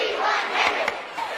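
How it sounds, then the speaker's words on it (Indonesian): A large baseball stadium crowd roars as a young pitcher is sent into the game, a broad, sustained wash of cheering voices with a few sharper swells. "gemuruh penonton pun langsung menyambutnya"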